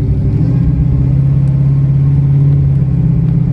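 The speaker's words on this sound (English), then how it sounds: "Love the sound of this car." A 1937 Ford 5-window all-steel coupe with a lumpy-cam engine pulls away, its deep steady exhaust rumble loud and close throughout with no talking.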